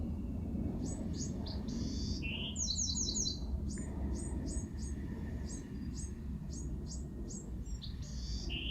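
Bright, quick bird chirps repeat in short bursts over a soft, steady background hum, several calls in a loose rhythm throughout.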